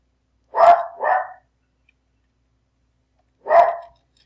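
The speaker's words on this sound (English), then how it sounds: "my dog is barking" A dog barks nearby: two quick loud barks, a pause of about two seconds, then one more, with silence between.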